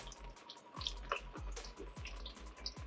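Transmission fluid drains from a 4L80E transmission pan into a bucket with a steady liquid trickle and splashing, punctuated by repeated dripping plops, close and moderately quiet.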